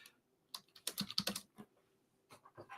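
Keys clatter on a computer keyboard in quick, uneven bursts of close, crisp taps, with short pauses between the runs of typing.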